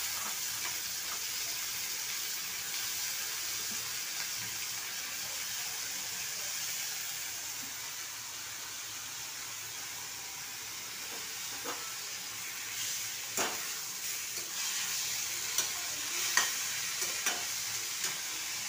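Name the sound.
vegetables added to hot pan, frying and stirring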